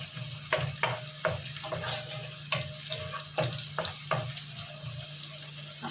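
Onion frying in a pan, a steady sizzle broken by repeated sharp scrapes and knocks of a spoon stirring against the pan, close and without speech.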